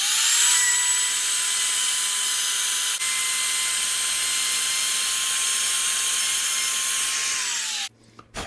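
A router cuts wood for a doubleneck guitar build, a loud steady high whine running unbroken for several seconds before spinning down and cutting off, close-up and without talk.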